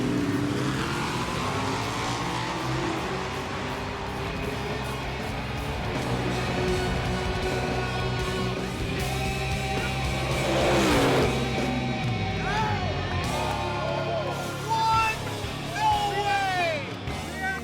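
Drag racing cars roar down the strip, engines accelerating and revving loudly with pitch sweeping upward, a continuous close engine drone that swells near the end.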